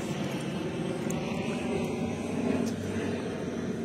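A continuous low aircraft rumble drones overhead, steady and fairly loud, with no voices.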